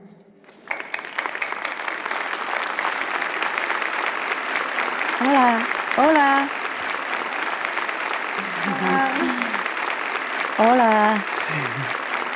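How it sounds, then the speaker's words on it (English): An audience in Xalapa City gives sustained, loud applause to welcome guest of honor Supreme Master Ching Hai at a videoconference, a steady wash of clapping with a few voices calling out greetings over it. "Let's welcome Supreme Master with a warm round of applause."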